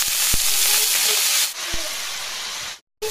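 Potatoes fry in a pan at home with a loud, steady sizzling hiss, marked by a few sharp knocks and one short silent break before the sizzle picks up again.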